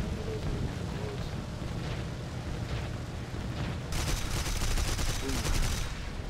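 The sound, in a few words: Dornier 217 J1 20mm cannons firing in video game War Thunder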